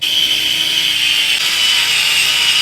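Small power screwdriver driving screws into the back portion of an SCX24-scale RC car body, a loud, close, steady high whine throughout.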